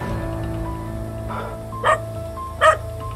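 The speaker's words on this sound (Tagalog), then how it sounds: "At may asong tumatahol" A dog barks twice in a quiet outdoor spot, the short sharp barks coming about a second apart over a steady low hum.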